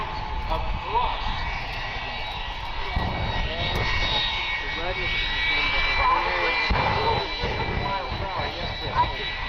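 A T-2 Buckeye jet fitted with an afterburner flies at an air show, its loud, roaring jet engine noise sustained throughout while an announcer talks over it.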